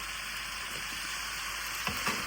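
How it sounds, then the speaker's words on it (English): Eggplant pieces sauté with spices in a pan, giving a soft, even sizzle with a faint hiss, and a couple of light utensil knocks near the end. "let this saute for about 10 minutes so all the spices marry with all the other ingredients"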